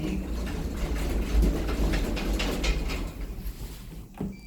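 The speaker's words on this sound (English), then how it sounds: "Doors opening." Doors of a ThyssenKrupp-modernized elevator with Leicester controls slide open at a Boots store in Belfast. A continuous mechanical rumble and rolling hum runs throughout and eases off near the end.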